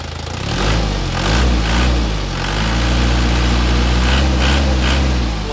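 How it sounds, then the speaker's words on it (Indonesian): Isuzu Panther LV 2.5 diesel engine idling loud and close, then revved, the deep steady rumble swelling as the throttle opens and holding at a raised pitch. "Nah, untuk bagian mesinnya seperti ini, teman-teman, suaranya kempel ya."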